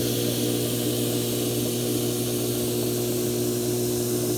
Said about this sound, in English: I have the lathe running just a little bit faster with the higher grit here